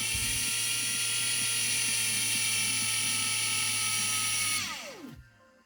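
An Einhell TE-CD 18 Li BL cordless drill whines steadily at high speed, close and loud, then winds down as the motor stops and the pitch falls away to silence.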